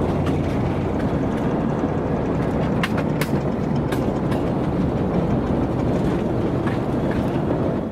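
A train on the narrow-gauge Chepets railway rolls steadily along its tracks toward Ozernaya station. A continuous, loud low rumble carries sporadic clicks and clacks from the wheels.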